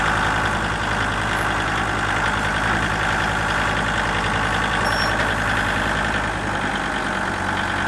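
Farm tractor at an estate auction idling steadily with a constant low, knocking engine rumble, close and loud for the whole stretch without change.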